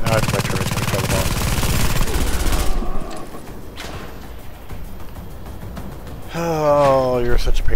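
A turret in a video game firing at a boss: a dense, loud stream of rapid gunfire, then scattered whooshes and hits, with a rising electronic effect near the end.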